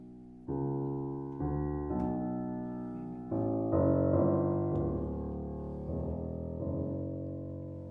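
An orchestra plays an excerpt from a later Schubert symphony, sustained chords entering in a few swelling steps and holding at moderate loudness, with no talking over it.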